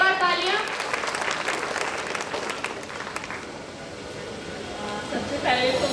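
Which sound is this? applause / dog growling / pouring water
applause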